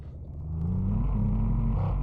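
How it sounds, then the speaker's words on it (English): An inline-six engine in a video game truck pulls uphill, its low, steady drone rising in pitch and loudness as it revs under load, close and continuous with no talking. "this little inline 6 that we put in this truck, it's actually doing pretty well."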